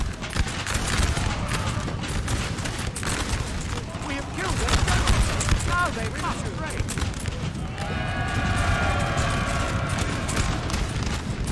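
Musket volleys in a Napoleon Total War battle between French and Austrian lines: scattered crackling shots and rolling bursts at middle distance, a steady battle din, with someone talking over much of it.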